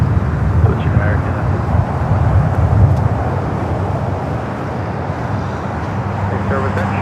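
A Boeing 747 rolls down runway 24 Left at LAX, a steady broad jet roar at a distance that stays level throughout, with faint voices and ambient airport noise underneath.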